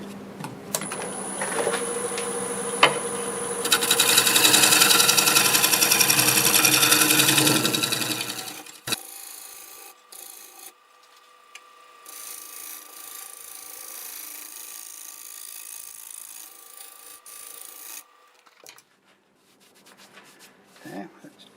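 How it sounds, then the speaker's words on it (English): A negative rake scraper works across a spinning black walnut piece on a wood lathe, a loud rasping buzz for several seconds that cuts off, followed by quieter scraping and handling sounds. "go over this with a negative rake scraper now and get it ready to sand"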